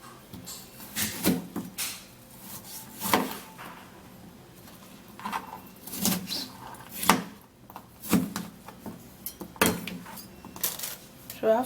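Irregular knife chops knocking on a cutting board, scattered thuds and clicks with quiet pauses between, close by.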